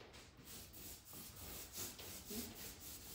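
A small paint brush rubs twilight blush paint onto a bedroom wall, giving a soft, steady scrubbing texture in repeated strokes, close and fairly quiet, with no talking.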